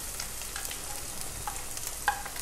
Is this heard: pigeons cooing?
no